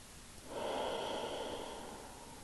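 A strong, breathy exhale released during a yoga pose, a steady airy rush that swells after a brief quiet start and holds fairly close and clear for about two seconds.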